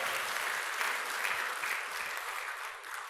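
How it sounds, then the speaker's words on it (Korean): Steady, dense applause from a church congregation fills the room, sustained and even throughout with no voices standing out. "할렐루야, 박수를."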